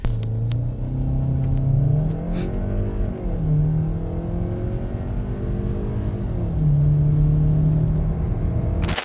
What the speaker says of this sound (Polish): kto by się spodziewał procedury startu, przepraszam bardzo, w tak dużym rodzinnym samochodzie, jakim jest Kodiak